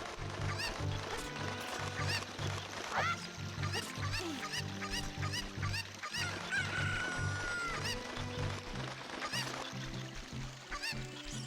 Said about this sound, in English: I didn't know the chicken can actually climb the ladder. Like it just flies up over it.